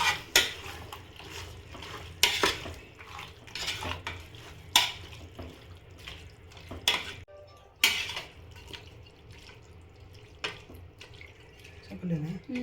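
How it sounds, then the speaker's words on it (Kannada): Chicken gravy in a pot is stirred with a spoon after a little water is added, giving irregular scraping clinks and knocks against metal, with faint splashing and a voice speaking at times. "ಸ್ವಲ್ಪ ನೀರು ಹಾಕ್ಕೊಂಡು ಇನ್ನೊಂದು ಸತಿ ಕ್ಲೀನಾಗಿ ಮಿಕ್ಸ್ ಮಾಡ್ಕೊಳ್ಳಿ."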